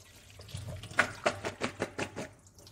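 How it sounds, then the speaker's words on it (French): Cauliflower florets are rinsed under running water in a home kitchen, making a quiet series of rhythmic splashing bursts that fade out after a few seconds. "Je viens rincer mes têtes de chou-fleur."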